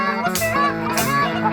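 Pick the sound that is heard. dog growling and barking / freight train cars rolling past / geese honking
geese honking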